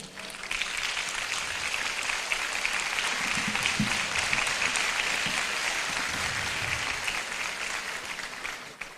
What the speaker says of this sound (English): may you rise so that we give you a round of applause